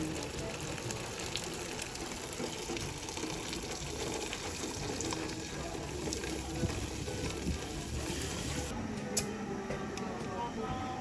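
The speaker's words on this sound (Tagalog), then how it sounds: "at nailagay ko na po yung tubig" Steady rush of water pouring into a pot, continuous and close, with faint clinks and a muffled voice beneath.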